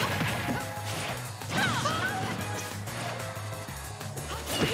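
Heavy smash attacks land in a Super Smash Bros. Ultimate tournament match between Lucina and Wii Fit Trainer, giving crashing impacts and whooshes over game music. Excited commentators talk throughout.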